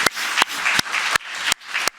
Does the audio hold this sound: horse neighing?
no